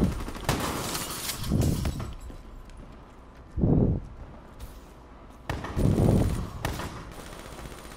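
Shotgun blasts in Call of Duty: Black Ops III multiplayer: three loud, booming shots a couple of seconds apart, each with a short echoing tail over steady game ambience.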